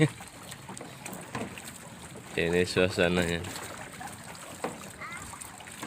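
Water splashes and laps around a small boat as it moves through big waves, with a person speaking briefly over the steady rushing background.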